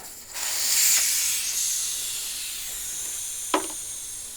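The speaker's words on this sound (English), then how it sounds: "Before we can unmount or dismount the tire from the wheel, take the valve core out." Air rushes out of a 2014 EZGO Express S4 gas golf cart tire through the open valve stem once the core is removed, a steady close hiss that starts abruptly and holds, with a brief click near the end.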